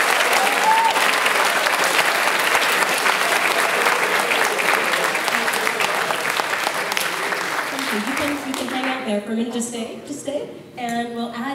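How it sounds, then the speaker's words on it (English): Full, steady applause from a concert audience for the choir directors at a school end-of-year concert, loud for about eight seconds before fading under a speaking voice at the end. "One more round of applause, please, for our directors."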